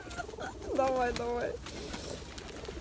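Pigeons cooing in Samara, a short run of soft, throaty calls rising over a steady background hum, with people talking nearby.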